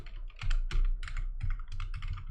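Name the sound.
typing on a computer keyboard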